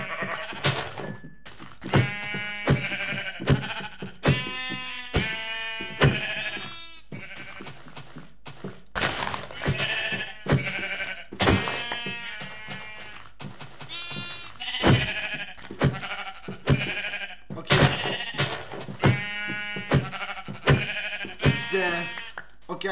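Sheep in Minecraft Java Edition bleat repeatedly, a string of nasal wavering calls from several animals close by, broken up by sharp thunks of hits, with a player talking now and then.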